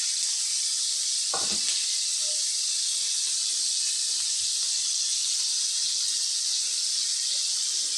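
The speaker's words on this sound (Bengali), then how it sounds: "আর একটু ভাজা ভাজা হবে" Steady, loud hiss and sizzle of salted chicken frying in a pan for green chilli chicken, continuous throughout with a brief soft clatter near the start.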